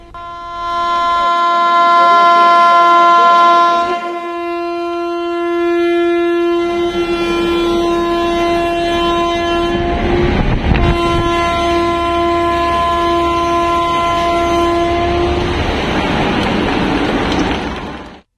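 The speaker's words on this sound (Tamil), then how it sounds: "பின்னர் சரக்கு ரயில் வெற்றிகரமாக இயக்கி சோதனை நடத்தப்பட்டது." A freight train runs along a railway line near a river bridge in Tamil Nadu, its horn blaring in long sustained blasts over the steady rumble and rattle of the wagons, loud and close throughout.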